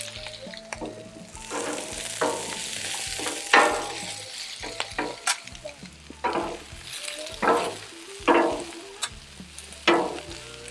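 Beans sizzling and frying on a Blackstone griddle for fried rice, a steady hiss broken by repeated scraping stirs and spatula scrapes, close and fairly loud with no talk.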